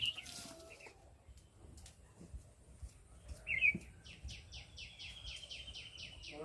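Birds chirp near an outdoor cooking spot, quick repeated tweets rising toward the end over a low rumbling background, moderately close and faint.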